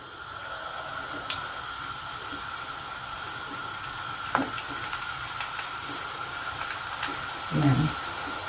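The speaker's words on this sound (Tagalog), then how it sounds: "Okay, so mainit na po yung mantika. Umpisa na nating iprito ang ating" Sliced aubergine frying in hot cooking oil for binagoongang talong, a steady loud hiss and sizzle with faint crackles and a brief bubbling burst near the end.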